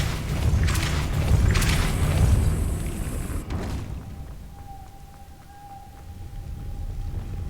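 A Depulso spell in Hogwarts Legacy bursts out as a loud, rumbling whoosh that slowly fades into a quieter ambient hum with a faint tonal ring, without any speech.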